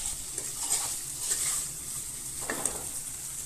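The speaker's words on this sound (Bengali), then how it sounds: "অনেকটাই ভাজা হয়ে গেছে মশলাটা, দেখুন তেল ছেড়ে এসেছে। এবার আমি আলুগুলো দিয়ে দেব।" Boiled potatoes go into spices frying in hot oil, giving a steady close sizzle with a few brief stirring scrapes and bursts of crackle.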